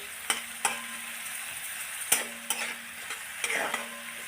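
Tomatoes, green chillies and dhes vegetable stalks sauté in a pan with a steady sizzle, a spoon scraping and clinking against the pan in several sharp strokes, close and alone with no voices.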